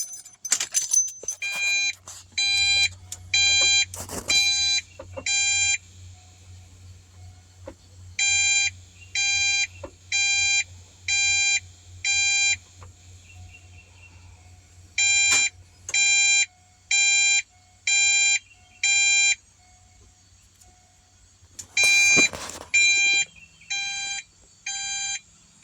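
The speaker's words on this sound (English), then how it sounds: "So that was 5 beeps 5 times." A Ford Foxbody dash module with the airbag missing beeps after the key is turned: repeated groups of five shrill electronic beeps separated by pauses, with occasional key clicks and jangling nearby.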